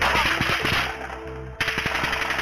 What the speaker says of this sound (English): Officer Brady Cook is shot.